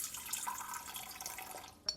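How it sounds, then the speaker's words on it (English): Warm water poured into a KitchenAid stand mixer bowl for semolina bread dough, a steady close splashing stream that runs for about two seconds with a brief sharper splash at the end. "I'm going to add it to the bowl and it has to be 390 grams of water or 390 mLs"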